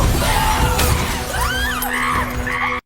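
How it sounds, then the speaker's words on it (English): A big glass window shatters as an ape smashes through it in a film scene, a loud crash of breaking glass followed by frightened yells and screams from a crowded room, with dense noise throughout. "Bright Eyes smashes through the big window"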